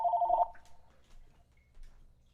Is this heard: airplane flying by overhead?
no